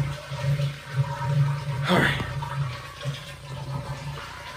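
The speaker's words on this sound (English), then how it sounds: "let me flush the toilet" A household toilet flushes nearby, a short swelling rush of water in the middle of the clip over a steady background hum.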